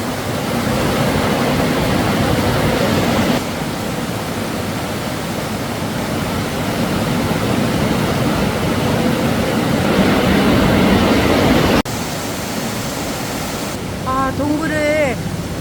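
Waterfall pouring inside Stopića Cave in Serbia: a loud, steady roar of rushing water fills the whole clip, with brief voices near the end.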